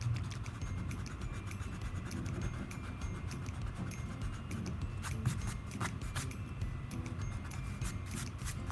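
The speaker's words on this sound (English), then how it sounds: "I'm just going to erase some of my pencil lines before we get started" An eraser rubs pencil lines off watercolour paper in brisk, continuous back-and-forth scrubbing strokes, close and fairly loud, with a soft papery rustle throughout and no talking.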